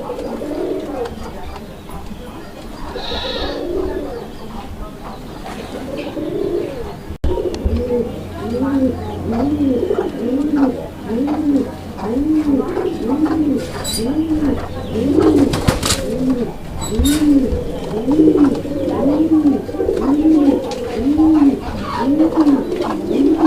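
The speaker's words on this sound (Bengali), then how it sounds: "এটা হচ্ছে আপনার রেড কালারের মধ্যে একটা বোম্বাই কবুতরের জোড়া" A pair of red Bombay pigeons coos in a steady, rhythmic series of repeated low calls, close and clear, with a voice talking briefly near the start.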